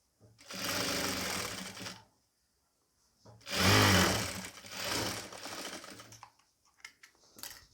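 A sewing machine stitches a nighty in two loud sustained runs of rapid mechanical whirring, separated by a pause, ending with a few short clicks.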